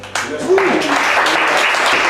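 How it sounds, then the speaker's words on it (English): An audience breaks into loud, sustained applause, dense clapping that swells quickly and holds steady with a voice or two calling out over it. "I'd like to ask everybody to put a nice round of applause together"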